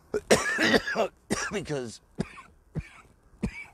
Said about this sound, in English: sorry, the coughing's part of the show.